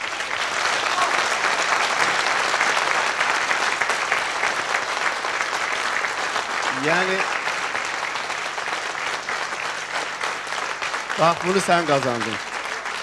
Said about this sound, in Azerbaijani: tamaşaçılar ürəklə alqışlayaq Rəşadı